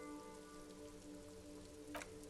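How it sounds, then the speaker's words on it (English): Rain falls in the Disco Elysium game world, a faint steady patter over water with soft low tones underneath and one brief brighter spatter near the end. "Sheets of rain over the water"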